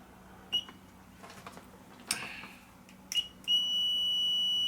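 A multimeter in continuity mode gives a few short chirps as the probes touch a good fuse, then settles into a sustained steady beep. Faint handling clicks sit in between, nearby in a quiet room.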